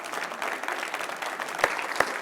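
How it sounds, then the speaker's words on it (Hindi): Loud, steady applause from a poetry-recital audience welcoming a poet, a dense wash of many hands clapping, with two sharp single claps standing out near the end. "विनीत चौहान का स्वागत कीजिए जोरदार तालियों के साथ"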